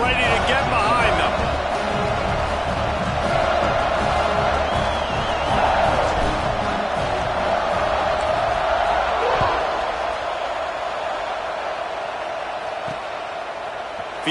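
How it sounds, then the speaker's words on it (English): A football stadium crowd at a college game against South Carolina gives a steady, broad roar and cheer around the kickoff, with a commentator talking over it throughout. "They're set to kick it off, and this crowd now ready to get behind them."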